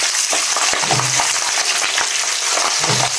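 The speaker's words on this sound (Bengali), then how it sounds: "এখানে একটা একটা করে দিয়ে দিতেছে মাছ।" Pabda fish coated with chili and turmeric fry in hot oil, giving a steady, loud, close sizzle throughout with small pops and no talk.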